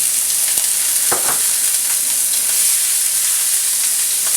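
Garlic and onion fry in a hot pan with a loud, continuous sizzle and crackle, a few soft clicks of stirring breaking through, and no talking.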